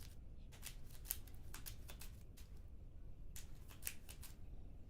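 Cards for the Journeys in Middle-Earth board game shuffled by hand in a series of quick riffling bursts, with short pauses between them, close and fairly quiet against a steady low room hum.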